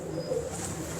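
Lalpari pigeons of the Lala Yusuf line cooing softly in a Lahore loft, a low steady murmur of coos with faint ambient hiss, no talking.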